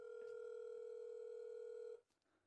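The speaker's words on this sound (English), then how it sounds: "That's now ringing the other touchscreen, which is down by the side of us here." A home intercom touchscreen ringing another touchscreen nearby gives a steady electronic ringing tone that holds evenly for about two seconds and then cuts off, leaving quiet room tone.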